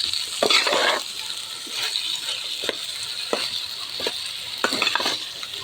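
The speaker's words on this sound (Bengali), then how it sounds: "কষাইতেছি।" Food being sautéed (kosha-style frying) in a pan, with a steady sizzle broken by repeated scraping stirs of a spatula, close and fairly loud, no talking.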